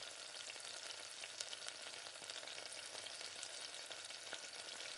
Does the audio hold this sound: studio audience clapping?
no